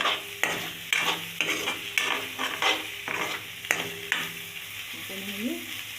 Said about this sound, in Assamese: এই ভেন্দি ভাজিম